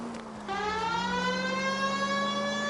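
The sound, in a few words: police car siren in video game L.A. Noire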